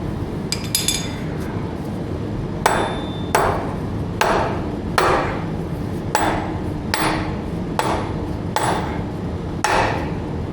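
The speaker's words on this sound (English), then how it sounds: "Maybe I can hammer on them a little and get it to go." Metal hammer blows strike parts being driven onto a vehicle axle during axle seal and brake work, about eight sharp clanking hits in a steady, evenly spaced rhythm, loud and close with no talking.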